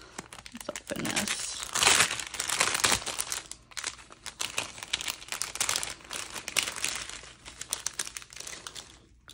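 A package of trim samples is opened, with close crinkling and rustling of packaging in uneven bursts and a brief tearing rasp near the start.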